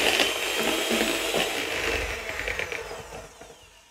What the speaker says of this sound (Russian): И хорошенечко теперь все это взбиваем.